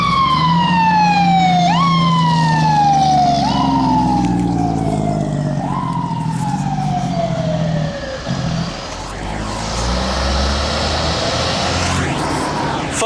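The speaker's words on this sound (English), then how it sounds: "Oh, it's a fire engine. Here it comes right here." A fire engine siren passes close by, its wailing sweeps rising and falling repeatedly, loud at first then shifting to a rougher, fading tone as the truck moves off down the street.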